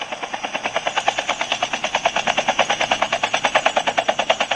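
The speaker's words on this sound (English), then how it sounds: "So I'm flying a helicopter here." Helicopter in a battle royale game playing on a Samsung Galaxy S9+, a steady fast rotor chop pulsing evenly throughout, loud and close with no other sounds.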